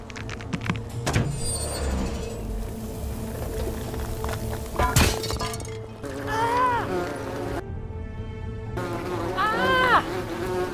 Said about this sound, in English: you're stuck in there with a hornet's nest, and they can be rather aggressive toward intruders